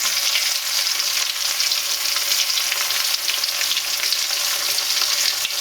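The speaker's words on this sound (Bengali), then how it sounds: "আমি এটাকে ভেজে নিচ্ছি" Chopped garlic frying in hot oil for beef kala bhuna, a loud, continuous close sizzle with a crackling spatter that holds steady throughout.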